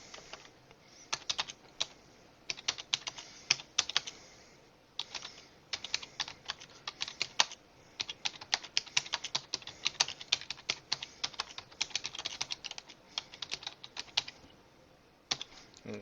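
Rapid, irregular keystrokes clatter on a computer keyboard, close and fairly quiet, in short bursts with brief pauses, as text is entered while writing a WordPress post.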